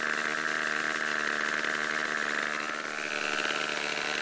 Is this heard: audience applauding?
no